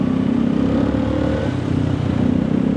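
A small 110 cc automatic Honda scooter engine runs close by, a loud steady putter with slight rises in pitch as it revs.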